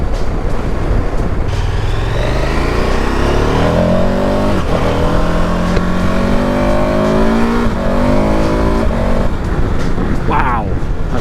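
A 2023 KTM 1290 Super Adventure motorcycle accelerates hard through the gears, its engine note rising in repeated sweeps with shifts between, loud and continuous under strong wind rush, with a rider speaking over it.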